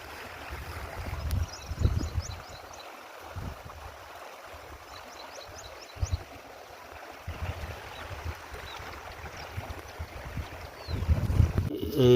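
Floodwater after a night of heavy rain runs along a small drain at the side of a field, a continuous rushing wash with gusty low rumbles and wind buffeting, no talk.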